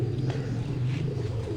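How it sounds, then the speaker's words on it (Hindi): Pigeon cooing, likely from a pigeon kept for a flying competition, a low steady coo that runs through the whole stretch over a dense background murmur. "तो पहला कबूतर आपको उस्ताद इमरान नदीम साहब दिखा रहे हैं।"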